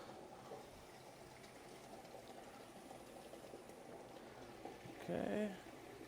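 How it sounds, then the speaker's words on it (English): DI water purges out the back of a SITEK 440-F spin rinse dryer (SRD) system as a steady rushing, bubbling hiss with a brief louder gush near the end, and faint voices sit underneath. "it looks like the DI water is purging out the back of the system"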